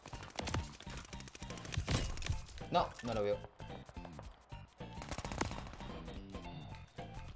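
Rapid gunfire bursts from a Call of Duty Vanguard multiplayer match crackle through busy game audio, with a player speaking over the shots.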